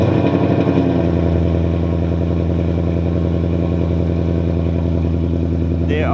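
Loud car exhaust fitted with expanded pipes and an X pipe, a steady deep idle rumble with a throaty burble held close and continuous throughout.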